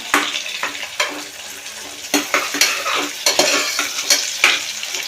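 Onions and carrots frying in a pan, a crisp sizzle running underneath as a spoon stirs and scrapes with repeated sharp clinks against the pan, close and fairly loud.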